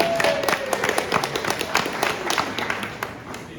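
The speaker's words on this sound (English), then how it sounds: "Let's give you a round of applause." An audience claps steadily through a round of applause at a 2024 master plan presentation. Dense overlapping hand claps hold an even level for several seconds, with little speech.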